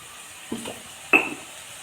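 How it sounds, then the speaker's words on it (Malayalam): Sliced onions go into well-heated, salted oil in a home kitchen, giving two short, quiet sizzling bursts about half a second apart. "എണ്ണ നല്ലോണം ചൂടായിട്ടുണ്ട്. ഇനി സവോള ചേർക്കാം കേട്ടോ."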